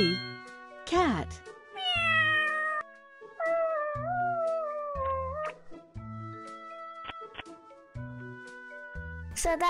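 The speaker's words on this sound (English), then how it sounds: "Cat." A cartoon cat in a children's alphabet learning game meows several times with rising and falling cries, mixed with chiming dings and short musical tones.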